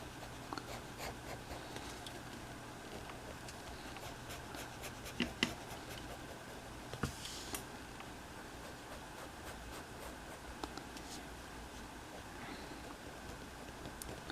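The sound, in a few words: pencil drawing textured curved lines on paper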